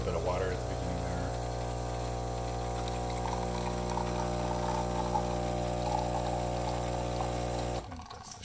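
Philips 3200 Series LatteGo espresso machine brewing a shot: a steady, loud pump hum with a low mechanical drone and faint trickling of coffee throughout, cutting off abruptly near the end.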